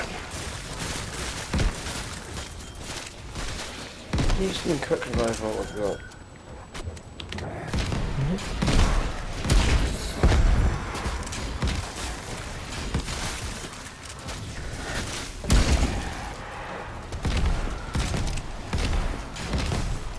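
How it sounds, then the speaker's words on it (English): Repeated booming blasts and heavy thuds from the Nuketown Zombies map in Call of Duty, dense and loud, with bursts of gunfire and a voice speaking now and then underneath. "Look at the explosions in here."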